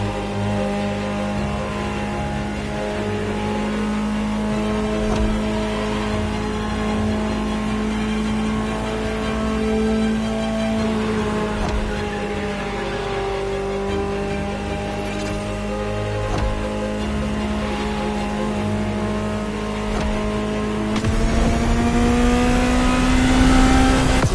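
A Ferrari supercar engine in The Crew Motorfest hums loud and steady at cruising revs, its pitch wavering slightly, before it climbs into a stronger rising rev near the end.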